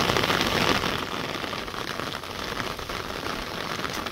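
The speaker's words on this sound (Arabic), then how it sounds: "هاي صبت الشتا" Heavy rain pours outdoors across orange farms in Berkane, a dense, close, continuous hiss of drops striking the ground and foliage, with no voices.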